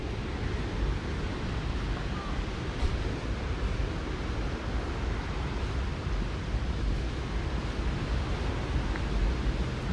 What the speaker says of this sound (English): Oh, you can hear the water from here.